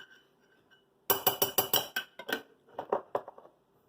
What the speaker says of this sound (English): we're just going to put some of these big Spanish Queen olives in there